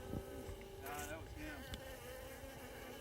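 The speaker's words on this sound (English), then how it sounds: "obviously the bees like it too" Bees buzz steadily close by around Sacred Datura plants in Cataract Canyon, with a continuous, droning hum and a few louder passes.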